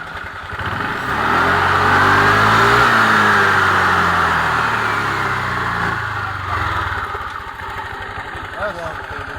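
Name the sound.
Yamaha scooter engine revving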